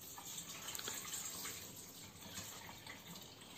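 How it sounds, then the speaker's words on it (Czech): Faint, steady rush of water being poured off boiled eggs, a continuous splashy gush with no voices. "Vařená vajíčka opatrně slijeme."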